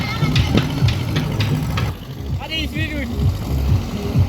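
A motorboat engine drones steadily as the boat runs along a river toward Chandpur, with voices talking over the continuous mid-distance hum.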